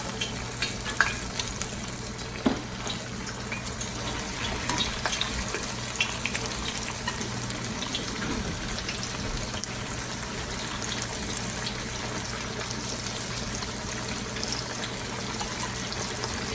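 Flour-dusted pork chops, seasoned with salt and pepper, frying in a pan of oil: a dense, steady sizzle with scattered crackles and pops throughout, close up, with no talk.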